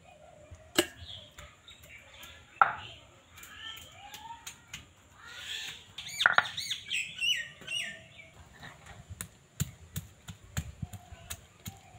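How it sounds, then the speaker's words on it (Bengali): Boiled elephant apple is crushed on a stone grinding slab with scattered sharp knocks and thumps at irregular intervals, while birds chirp and twitter nearby throughout. "আর এইভাবে কিন্তু শিলনোড়াতে থেতো করে নেব।"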